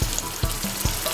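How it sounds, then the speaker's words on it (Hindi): Ginger garlic paste and chicken fry in a pan for a chicken curry, giving a steady close sizzle with soft rhythmic thumps about every half second, as if stirred. "अदरक और लहसुन अच्छी तरह हमने फ्राई कर लिए हैं।"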